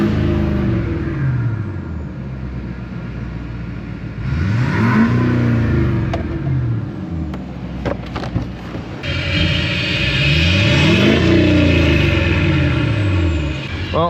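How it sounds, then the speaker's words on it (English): An LBZ Duramax diesel pickup truck with a 5-inch exhaust to a bed stack revs up hard twice, each surge rising and falling with a deep roar, then settles to a close, steady idle between the revs. "truck has a functioning exhaust"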